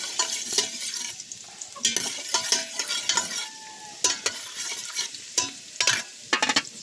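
Garlic frying in a little oil on a stovetop, with a steady sizzle broken by repeated bursts of stirring and scraping as the pieces are moved around the pan; no talk over it.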